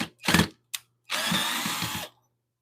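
A power driver backs screws out of ash wood held on a woodturning lathe, giving a short buzzing burst, a brief click, then a longer steady whir as a tight screw comes loose, all close and loud.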